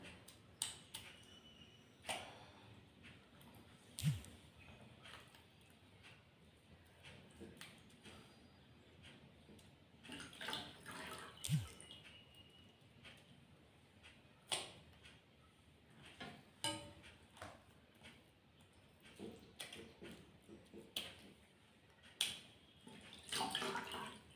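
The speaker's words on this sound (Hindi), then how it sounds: "देखिए सारा छाछ इससे अच्छे से धुल जा रहा है" Homemade butter being washed in water to make ghee gives off quiet, intermittent splashes, sloshes and small clinks of a utensil against a vessel, faint and close.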